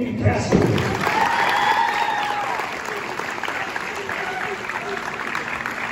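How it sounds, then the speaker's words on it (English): Crowd applause and cheering in a gym during a college men's basketball senior day presentation, loud at first with a burst of shouts, then tapering into a lighter sustained clapping while a public-address voice talks over it. "ladies and gentlemen, let's give a round of applause for all four of Brevard College Men's Basketball Senior Class."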